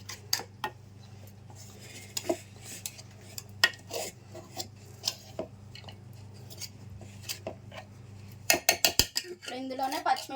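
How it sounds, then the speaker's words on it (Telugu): Ground green chili and peanut powder being stirred in a bowl for tamarind pickle, quiet scattered clinks and scrapes of a spoon against the dish over a low hum, with a busier cluster of clatters near the end. "ఇప్పుడు దీన్ని కొంచెం ఒకసారి కలుపుకొని"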